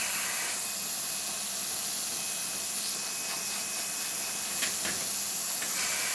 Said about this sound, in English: As you can see, a lot of steam coming out.